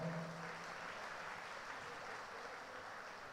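A congregation at a retreat centre claps steadily in praise, a continuous, even wash of many hands heard somewhat distantly and faintly, with a voice briefly at the start.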